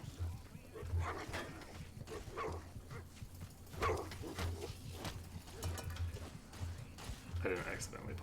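Dogs barking in a video game, short yips and woofs scattered through the clip over a constant low game hum.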